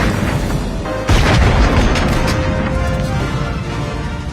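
A single loud, booming handgun shot in the film Die Hard strikes suddenly, followed by a heavy rumbling echo that slowly fades under a constant background roar.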